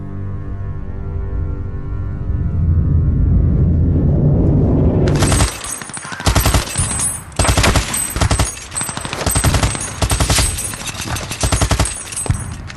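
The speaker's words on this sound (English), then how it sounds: "Emerging from their trenches to face fierce German machine gun and artillery fire." German machine gun and artillery fire at the Battle of the Somme: a deep rumbling roar builds for about five seconds, then gives way to dense, loud bursts of rapid gunfire with sharp cracks and booming blasts.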